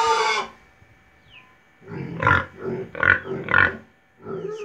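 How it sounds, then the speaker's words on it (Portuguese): Large pig and wild boar crossbreed raised on a small farm, giving a loud burst followed by several deep, close grunts in an uneven series. "esse aqui é o Java porco, criado aqui no sítio desde novinho."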